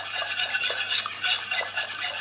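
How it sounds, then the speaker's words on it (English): A whisk beating heavy cream into a white sauce for shrimp bisque, with quick, steady swishing strokes close by and no talk. "now we're going to whisk this"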